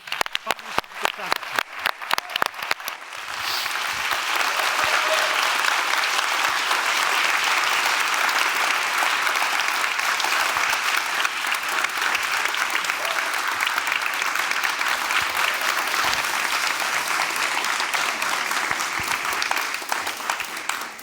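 An audience at an awards ceremony applauds eight young award winners standing on stage, starting with a few sharp individual claps that swell into sustained, full-room applause lasting about twenty seconds.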